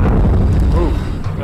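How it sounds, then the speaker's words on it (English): A grenade explodes in the video game Call of Duty: Vanguard, a loud, heavy boom with a deep rumbling tail filling the whole short moment, with a voice faintly present. "Tossing grenade."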